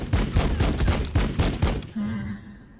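Bolter supporting fire in Warhammer 40,000: Battlesector, a fast burst of heavy gunshots in quick rhythmic succession for about two seconds, loud and close, ending with a low resonant tail.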